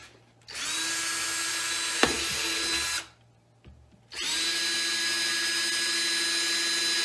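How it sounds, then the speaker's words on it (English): A power drill with a 1/4 inch bit bores drainage holes in a container for growing oyster mushrooms on straw. There are two loud, close, sustained whining runs with a short quiet gap between them. "I'm going to use a 1/4 inch drill bit for the sides, and then I'll use something smaller like an 1/8 inch drill bit in the bottom for it to drain."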